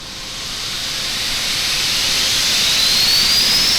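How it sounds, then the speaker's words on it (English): A simulated Boeing 787 jet engine spools up during start in Microsoft Flight Simulator 2020, a hissing roar that steadily grows louder while a thin turbine whine climbs in pitch. "We'll start engine 1 in a second, just after engine 2 kind of spools up."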